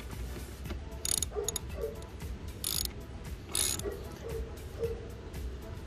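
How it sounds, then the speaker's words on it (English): A ratchet tightens a nut on bicycle cranks, giving close, quiet clicking strokes in a few irregular bursts over steady background noise. "Okay, then you get your ratchet."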